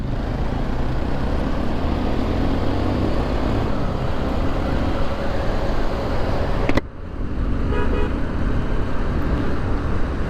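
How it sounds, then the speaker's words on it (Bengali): Heavy night traffic roars along the Dhaka to Cox's Bazar highway, a loud, steady wash of car and truck engines close by, with a brief dip partway through before the rumble resumes. "আজকে হচ্ছে রাস্তায় গাড়ির প্রচুর চাপ"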